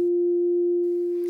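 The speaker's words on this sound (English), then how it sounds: "The first, or what we call the fundamental frequency, is about 350 hertz." A pure, isolated 350 Hz fundamental of a trumpet's concert F sounds as a smooth, steady sine-like hum with a faint upper partial, held alone for about a second before fading under light background noise.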